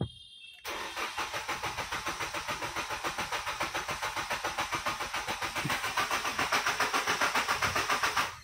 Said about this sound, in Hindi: इस गाड़ी को भी मैं स्टार्ट करने की कोशिश करता हूँ।